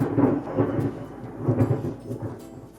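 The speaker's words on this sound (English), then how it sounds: "we're in the middle of a thunderstorm here" Thunder rolls and rumbles through a thunderstorm, with two or three swelling low peaks over steady background noise and no voices.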